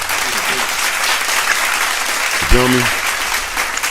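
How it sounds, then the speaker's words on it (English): A round of applause greets a guest as he is introduced, a steady wash of clapping under a host's voice, with a brief louder burst midway before a man asks a short question. "Yeah, I got to give him a round of applause."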